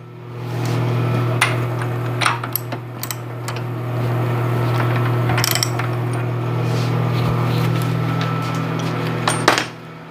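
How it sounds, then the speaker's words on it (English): A rebuilt 1980 Maka mortiser head tilted on its pivot bolts, giving scattered metallic clicks, ratchety clunks and knocks over a steady motor hum, close and fairly loud, with no talk. "then you can tip the head down and have it in a horizontal, full vertical, or part way in between"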